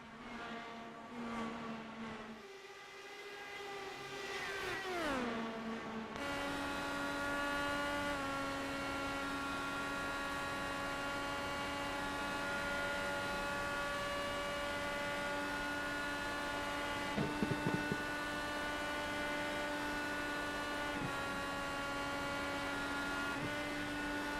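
Race car engines at Indianapolis in the iRacing simulator, a steady loud drone of high revs held nearly constant with a sharp pitch drop and rise early on, then a long sustained whine with no talk.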